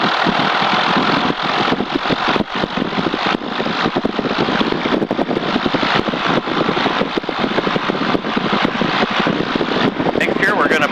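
A small aircraft's engine runs up to 1700 rpm in a loud, steady, close roar with throttle held high throughout, while a person talks over it.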